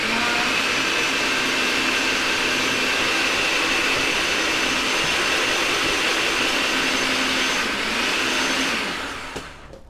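A food processor chops salsa ingredients with a loud, continuous motor roar and whirring blades that runs almost the whole time, then winds down at the very end.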